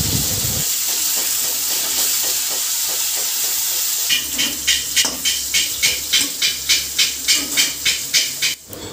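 Bitter gourd pieces frying in a pan with salt: a steady sizzle, then about a dozen evenly spaced stirring scrapes in a regular rhythm near the end, close and clear with no speech.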